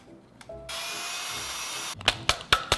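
A power drill whirs steadily for over a second, then several short, loud bursts of drilling follow in quick succession, close by.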